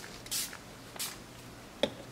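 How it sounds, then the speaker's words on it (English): Two short hissing sprays from a spray bottle, quiet and close, followed by a small click or tap; no talking. "I'm just going to spray in there like that."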